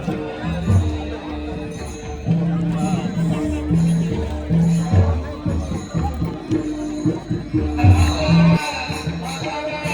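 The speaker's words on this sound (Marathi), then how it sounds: "आता महाप्रसादात बसले आणि गर्दी खूपच आहे" A large crowd at a village Ganesh Jayanti festival meal fills the air with a continuous hubbub of many voices. There are occasional clinks of dishes, and a nearby voice talks over the babble.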